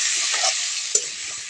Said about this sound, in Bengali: লবণ হলুদ দিয়ে ওলকপি আলুটা ভালো করে ভেজে নেব।